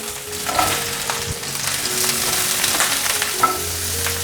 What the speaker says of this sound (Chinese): 栗子因为是冷冻的，所以先放进来炒。 大约略炒一下，放入杏鲍菇，